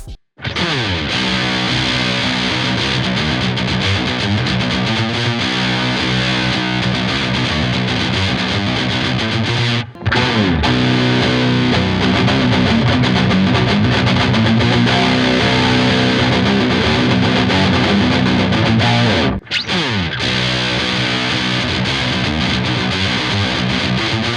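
Loud, sustained electric guitar through distortion and a whammy pedal, playing a song continuously with wavering, pitch-bending effects, broken by two brief gaps.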